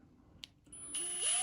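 A power drill fitted with a combined pilot-hole and countersink bit, used while building a chair mock-up, whirs up to speed after a few faint knocks, its motor pitch rising steadily and holding close and loud.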